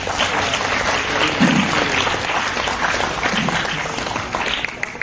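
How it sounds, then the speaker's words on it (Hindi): An audience applauds in welcome of Union Minister Ramdas Athawale, steady clapping from a crowd filling the full few seconds at an even level. "उनका हम सभी तालियां के साथ जो है उनका जोरदार स्वागत करेंगे"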